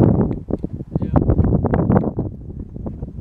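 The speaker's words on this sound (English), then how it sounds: "It's so windy" Strong wind gusting outdoors on a fishing trip for crappie and largemouth, a steady loud roar buffeting the microphone with rustling bursts throughout, and a voice faintly mixed in.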